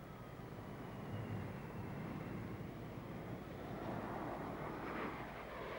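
A Boeing 747 on a crosswind landing test, heard as a steady, distant broadband roar of jet engines and rushing air with some wind noise, no voices.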